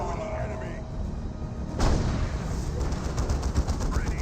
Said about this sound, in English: Predator tank received a bit of fire there